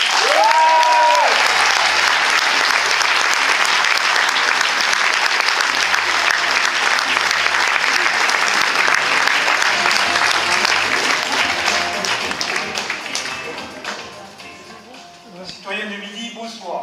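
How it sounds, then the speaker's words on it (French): A large crowd at a Toulouse political rally applauds loudly and steadily for a long stretch, a dense wash of clapping that thins toward the end as a voice begins over it. "Mesdames et messieurs, je vous remercie d'applaudir M."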